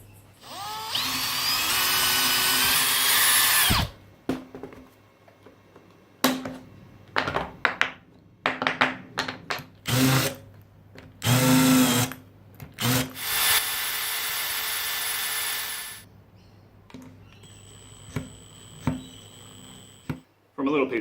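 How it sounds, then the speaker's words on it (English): A power drill bores pilot holes into a small wooden offcut brace in a home workshop, with several bursts of high whining drilling, sharp pauses between them, and someone talking in the gaps. "Pre-drilled these holes for the nail so that it wouldn't split the wood too much."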